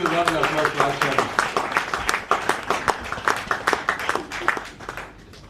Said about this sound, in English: I want to give a round of applause to our chairman.